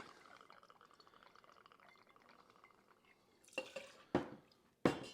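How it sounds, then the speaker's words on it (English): Two ounces of Pisco pours into a cocktail glass or shaker in a faint, quiet trickle, followed by a few louder liquid splashes and clinks near the end. "we're gonna go for 2 healthy ounces of Pisco"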